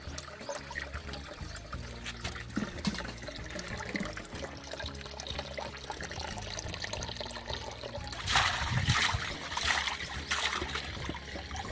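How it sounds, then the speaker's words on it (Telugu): Water from a spring used for drinking in a tribal area trickles and splashes steadily nearby, with a louder gush for a few seconds toward the end, and no talking. "ఇదిగోండి ఈ ఊటనే."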